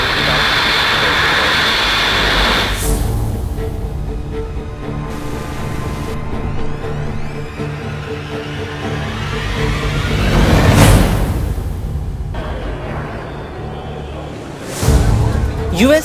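A rocket engine ignites with a sharp burst and builds into a loud, sustained roaring launch, a broad rumble that swells and fades across the clip, cut by abrupt transitions.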